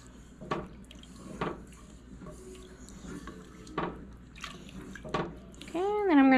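Canned potatoes from a quart jar tumble into a soup pot for bacon corn chowder, giving a few soft wet plops and splashes against a steady low kitchen hum, with a brief rising tone near the end.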